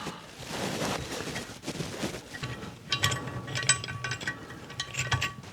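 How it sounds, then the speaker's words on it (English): A valve spring compressor is backed off a Kawasaki ZX9R motorcycle cylinder head with quiet metallic clicks and ratcheting, with a few light clinks of metal close by. "just back the spring compressor off"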